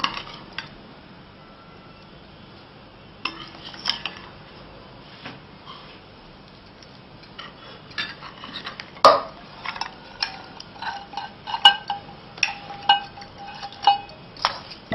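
Flour dough and partly dissolved sugar being mixed in a bowl for thekua, heard as scattered clinks and scrapes of a utensil against the bowl, sparse at first and then more frequent, quiet, with no talking.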